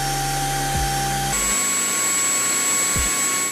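Redkey P7 cordless stick vacuum with a telescopic tube, its motor running as a loud steady whine with high tones, shifting pitch once as the power level changes, with a couple of low thumps, no talking.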